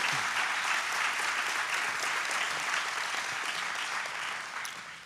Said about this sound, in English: Let's give all of our award recipients a big hand, a round of applause.